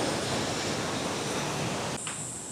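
River water rushes beneath the double-decker living root bridge in Meghalaya, a dense, steady roar of broadband noise that drops sharply in level near the end, with no voices.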